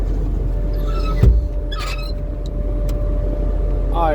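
A skid steer loader being driven, its engine a steady low rumble throughout, with a brief thump near the middle and faint squeaks and clanks over the drone.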